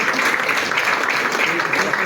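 A hall crowd claps steadily and densely for the 18 past presidents of a Karur Angels club at an installation ceremony, with an even wash of hands throughout and no break.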